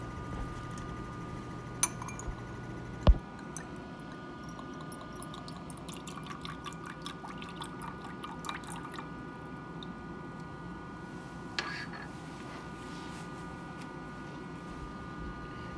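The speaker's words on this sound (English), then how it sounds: "Pour the deionized water and unknown sugar solution in the respective labeled beaker." Deionized water and a sugar solution poured into labeled lab beakers: trickling liquid with drips, a couple of sharp glassy clinks and knocks, and light splashing close by in a quiet room.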